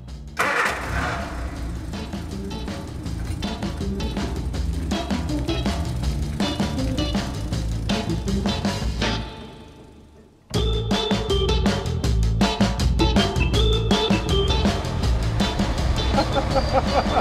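A running vehicle engine with a persistent grinding, rattling noise from a failing bearing, loud and close, cutting out briefly before resuming.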